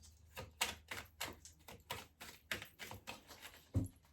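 A deck of cards being reshuffled, a run of quick papery riffles and taps at a soft, close level, ending with a sharper knock, no talking.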